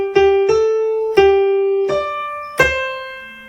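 Keyboard playing the second line of Happy Birthday as a lesson demonstration: six clear, evenly spaced notes with sustained tones, alone with no talk.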